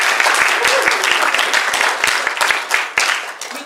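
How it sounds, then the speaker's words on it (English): A classroom or workshop audience gives a loud, sustained round of applause for the event organizers, with dense clapping and some distinct individual claps that begin to thin toward the end. "Give them a round of applause."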